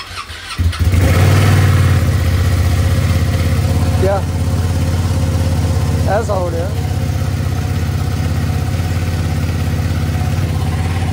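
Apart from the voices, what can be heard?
Ducati superbike engine starting and idling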